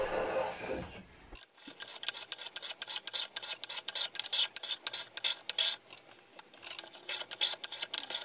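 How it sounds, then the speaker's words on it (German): A hand plane chamfers the edges of wooden picture frame parts in a rapid run of rasping strokes that continues for several seconds after a short thump, close and loud, with no voices. "Jetzt hobel ich Phasen an die Rahmenteile."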